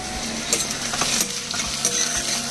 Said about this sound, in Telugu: ఉల్లిపాయ ముక్కలు వేగిపోయినాయండి